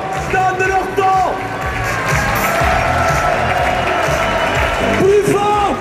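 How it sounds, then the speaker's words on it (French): A rally crowd at a La Manif pour tous summer university event applauds and cheers for the volunteers, a steady roar of clapping and shouts, with an amplified voice calling out over it. "d'applaudissements pour les volontaires! Plus fort que ça!"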